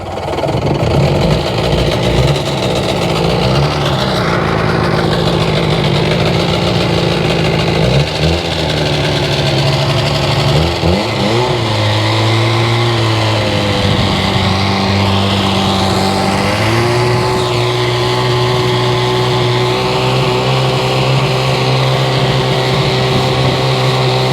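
A Sea-Doo 787 jet ski engine with a no-start problem idles in a loud, steady, rough drone. Its pitch dips and shifts a few times over about twenty-four seconds, with no talk.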